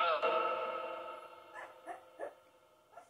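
A puppy stuck on a couch whines in a long, high, wavering cry, followed by a few shorter whimpers fading off, close by.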